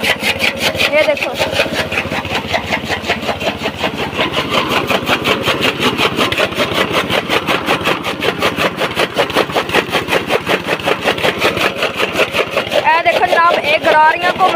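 A 5.5 petrol engine driving a chaff cutter machine, a loud rapid rhythmic chugging with regular pulsing beats throughout, running close by with a steady mechanical clatter.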